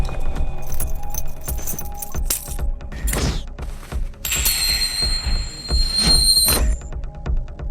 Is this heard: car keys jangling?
yes